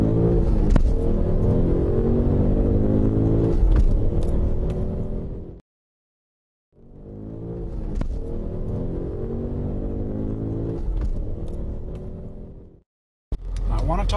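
A BMW M5 with a manual clutch pulls away at about 1,400 rpm. Its low, steady engine drone runs in two long stretches split by a brief silence and is heard close up without talk.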